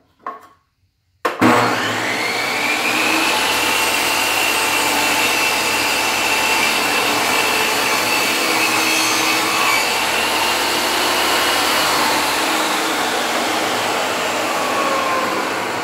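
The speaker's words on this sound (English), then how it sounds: "So I'm going to start my first cut in here to start the dado." A power saw cuts a dado into wood for a plywood beekeeping inner cover, a loud steady whining cut running continuously after a brief start, with no talk.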